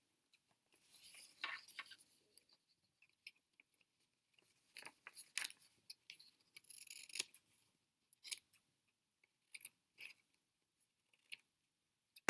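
Scissors trim the small overhanging edges of a paper Veterans Day pennant, giving crisp, close snips in irregular clusters with short quiet gaps between the cuts.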